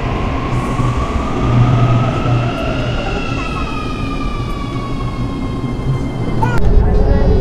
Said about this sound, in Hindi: तो अभी हमारी मेट्रो आ चुकी है